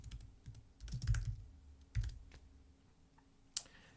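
Typing on a computer keyboard to enter a search in a web browser, with irregular bursts of close key clicks and taps and a final sharp click, no voices.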